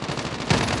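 Rapid machine-gun fire in Call of Duty Mobile, a loud continuous rattle of closely spaced shots lasting under a second.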